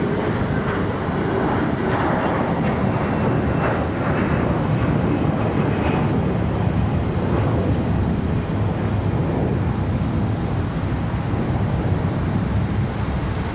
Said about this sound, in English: SkyWest 4828, this one off to Stanton. CRJ 701, this one lifting off early.